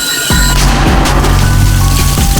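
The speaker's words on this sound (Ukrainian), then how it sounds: "Постріл!" A sudden deep boom from a nearby 82 mm mortar shot in wartime, followed by a sustained low rumble and crackling noise that carries on loudly to the end.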